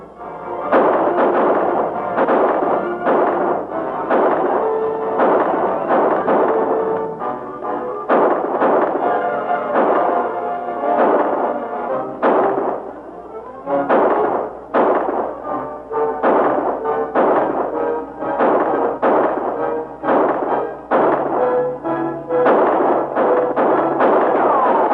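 Gunshots ring out in a 1947 western film shootout, a long run of sharp, loud cracks fired in uneven clusters, some echoing, with no talk between them.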